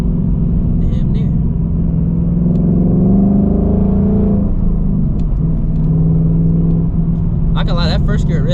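2024 Mustang GT running on E85 accelerating hard in first gear, a loud close engine roar climbing in pitch with deep rumble, steady throughout, with a brief voice near the end.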